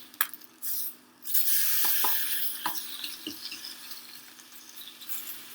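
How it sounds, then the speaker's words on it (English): Turkey bacon frying in a pan gives a steady, moderately quiet sizzle with scattered sharp pops and crackles, plus a brief stir or scrape near the start. "And there's our turkey bacon frying up."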